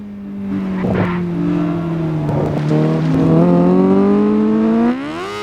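A superbike engine whines in a Japanese racing video game, its harmonic tone dipping as it brakes hard into a chicane and then climbing again as it accelerates out, loud and close with no voices.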